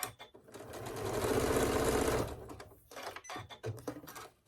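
A sewing machine stitches around a quilt square for a Halloween table runner, a steady close whirring run of about two seconds followed by scattered handling clicks and knocks.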